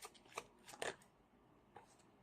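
Tarot cards being shuffled by hand give a few quiet, brief riffling bursts with pauses between them, heard alone.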